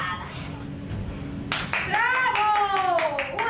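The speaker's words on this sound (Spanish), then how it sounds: "¡Bravo! ¡Un aplauso!" Children clap in a quick scattered burst that starts partway through, joined by high, sliding young voices calling out over the claps after a stretch of muffled background noise.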